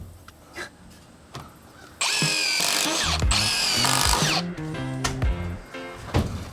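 Power drill driving screws into exterior siding, two loud whirring bursts close by, followed by a few shorter stop-start trigger pulls as the screws seat.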